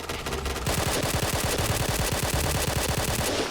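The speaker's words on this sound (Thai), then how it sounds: "เสียงปืนดุนแรงมาก" Rapid automatic video game gunfire rattles in a continuous burst of loud, evenly spaced shots.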